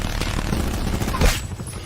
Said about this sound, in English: Obviously my turret's shooting at something.